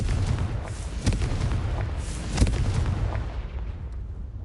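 Confringo fire spell detonating in the Hogwarts Legacy video game, a dense roaring blast with sharp bursts early and midway over a steady rumble of game noise.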